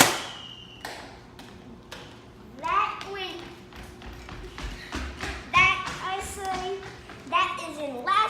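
A toy Nerf blaster fires a foam dart, giving a short, sharp pop among light taps and thuds while someone talks nearby.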